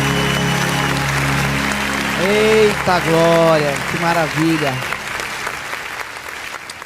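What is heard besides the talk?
church congregation clapping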